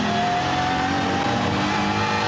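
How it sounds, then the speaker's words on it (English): A race car engine held at full revs during qualifying at the Nürburgring 24 Hours 2024, a loud, sustained high-pitched wail with steady tone throughout, no voices. "He used all the revs in qualifying mode."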